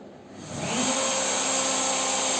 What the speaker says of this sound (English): Here spindle process means the milling bit will get started.